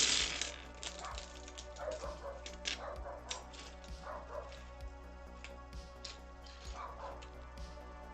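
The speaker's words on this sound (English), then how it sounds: "Dog's starting to piss me off now" A dog barks and yips repeatedly indoors in the background, the sharp calls scattered irregularly over a steady low hum.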